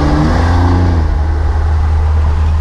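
A Cummins diesel pickup truck accelerating while rolling coal, a loud, steady low engine drone with a rising tone early on, heard close and continuous over wind noise.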